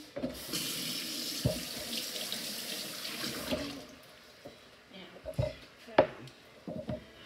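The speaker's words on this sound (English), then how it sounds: "I've got 4 smaller potatoes here, and I'm just going to wash them good" Four small potatoes rinsed under a running kitchen tap, water splashing steadily for the first few seconds, then fading into quieter drips, knocks and handling sounds, with a voice talking briefly near the end.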